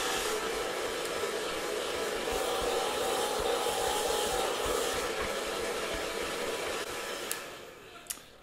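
A hair dryer blows steadily while drying a beard, a loud continuous rushing hiss that carries on unbroken before tapering off, ending with a couple of sharp clicks.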